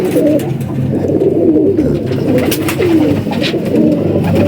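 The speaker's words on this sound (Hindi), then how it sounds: "माशाल्लाह बड़ा ज़बरदस्त कबूतर है।" Several pigeons coo nearby in steady, rolling throaty murmurs, overlapping without pause for the whole stretch.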